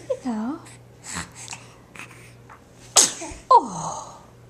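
A young boy sneezes twice, sharp nearby bursts with a quick intake of breath before each, among soft babbling, murmurs and adult voices talking around him.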